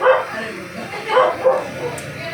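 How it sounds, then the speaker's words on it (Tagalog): A dog barks and yips in short bursts close by, some of them whimpering, while a person talks over it. "Ingay ng aso"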